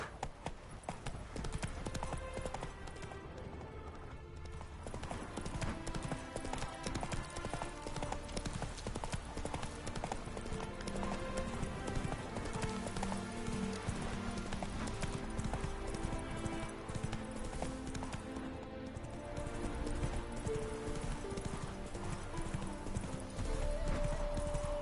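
Hooves of a galloping horse in The Witcher 3 drum in a steady rapid rhythm, blended with dense game music and ambience, continuous for the whole stretch, with an occasional brief whinny.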